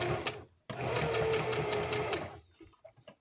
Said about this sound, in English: I just want to sew some lace around it.